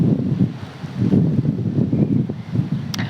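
Gentle outdoor breeze blows steadily across a microphone, a soft continuous rush with low buffeting and a faint rustle, with no voices.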